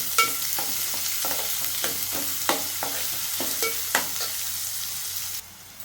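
Onion softening in hot oil in a pan, a steady close sizzle broken by a dozen sharp scrapes and taps of a spoon stirring against the metal, with no talking.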